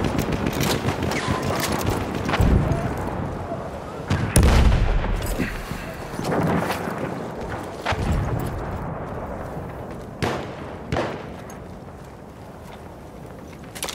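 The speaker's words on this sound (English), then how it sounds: "Enemy machine gun over there!" Machine gun and rifle fire in Battlefield 1 on the Sinai desert map during a Team Deathmatch, with loud bursts and sharp cracks over continuous battlefield rumble and distant explosions, some near and some far.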